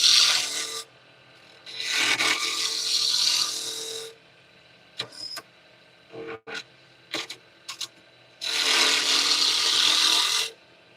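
Wood spins on a lathe against carbide tools in bursts of harsh scraping and rasping, separated by quiet gaps with brief knocks and clicks before a final long cut.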